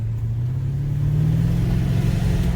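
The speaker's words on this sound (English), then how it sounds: "so you can hear the engine a bit" A Mercedes-Benz E550 V8 engine drones steadily and builds slightly in pitch and loudness as it pulls uphill under load, close and continuous with no voices.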